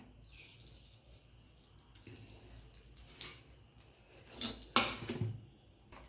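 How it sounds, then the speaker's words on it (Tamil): Mustard seeds hit hot oil in a kadai while ridge gourd poriyal is being cooked. Sparse, uneven pops and sizzles follow, with a louder burst of crackling toward the end. "இப்போ கடுகு போட்டுக்கிறேன்"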